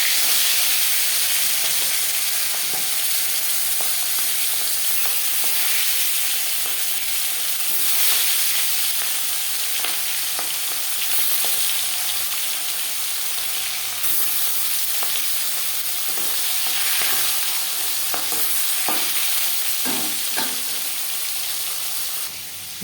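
Oil sizzling in a wok (kadai) while preparing an aar fish curry, a steady loud frying hiss with a few faint clinks, running unbroken and close throughout.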